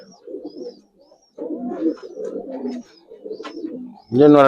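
Giribaz and Army pigeons cooing close by, several soft throaty coo phrases in uneven bursts with short pauses, ending on a louder, harsher call.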